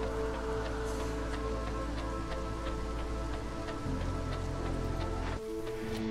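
Steady drizzle of rain in the video game Against the Storm, a continuous soft patter of drops with faint ticking, heard alone over a low ambient hum throughout.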